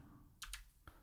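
A few quick keystrokes on a computer keyboard while renaming files, faint and close, with two clustered taps followed by a single isolated key press.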